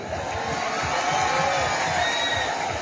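A crowd at a Bangladesh army cantonment gathering in Barisal claps and cheers together, a dense continuous wash of applause and scattered shouts that stays loud and even for a few seconds.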